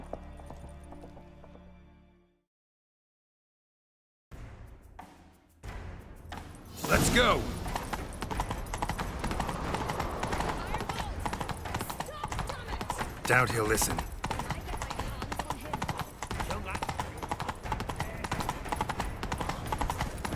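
Horses gallop with steady clip-clop hoofbeats in The Witcher 3 video game, one of them the horse Roach, heard up close and continuous under game music and voices shouting during a chase through the castle grounds.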